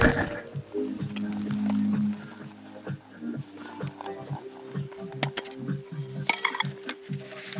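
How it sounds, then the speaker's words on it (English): Metal pieces of a small Aldi camping cook set clink and rattle as they are handled, with a steady hum early on and irregular close clatter throughout. "And then the old Aldi cooker. It's just a small little cook set."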